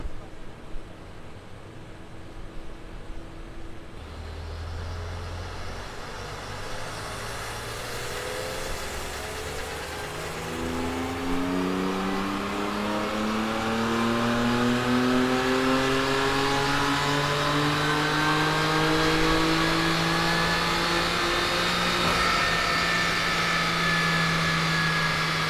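A tuned car fitted with a VRSF intake revs up from idle, engine pitch climbing steadily into a loud sustained high rev with rising harmonic whine, close by, with faint talk early on.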